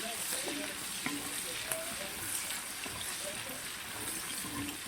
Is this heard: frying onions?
yes